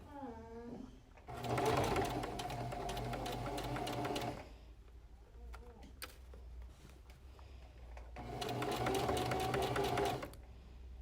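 A sewing machine stitches a face mask over elastic in two loud, rapid bursts separated by a quieter pause with faint handling sounds, and a voice is briefly heard at the start.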